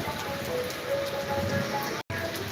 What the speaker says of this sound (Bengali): প্রচুর পরিমাণে বৃষ্টি হইতেছে দেখতে পারতেছেন